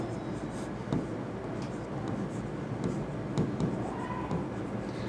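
A pen or marker scratches and taps in short strokes while a teacher draws a trapezium diagram, the strokes close and moderately loud over a steady background hum.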